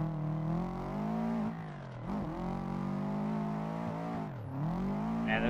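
Drift car engine in the Assetto Corsa racing game, a DCGP drift build, revving hard and steadily with strong harmonic whine, dipping briefly twice as the throttle lifts and shifts, loud and continuous with no talking.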